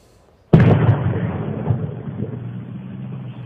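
A mailbox bomb set off by vandals bursts with one sudden loud boom, captured outdoors by a home doorbell security camera, then rumbles and rolls away into a long fading echo.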